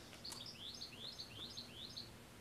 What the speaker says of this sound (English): Oh, that's a nice bird. goldfinch? Maybe.